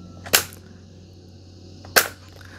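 An automatic transfer switch changing over between mains power and a diesel generator gives two sharp, loud mechanical clacks about one and a half seconds apart, close by against a low steady hum.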